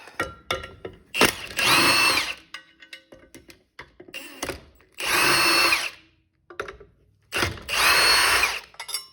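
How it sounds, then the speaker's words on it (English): An impact wrench loosens T50 Torx bolts on the helix of a Can-Am X3. It fires in three loud, close bursts of about a second each, separated by quieter handling clatter. "Now we're simply going to loosen these T50 Torx bolts. We're going to use an impact."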